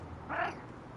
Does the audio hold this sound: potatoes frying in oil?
no